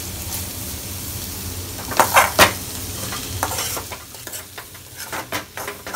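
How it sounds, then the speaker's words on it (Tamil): Onions sautéing with chili powder in a pan for scrambled eggs, a steady sizzle broken by a few sharp spatula scrapes and clinks near the middle, then softer stirring strokes; no voices. "நம்ம போட்டிருக்க அந்த சில்லி பவுடர் வாசனைலாம் கொஞ்சம் போட்டு அது வரைக்கும் வதக்கிட்டே இருக்கலாம்"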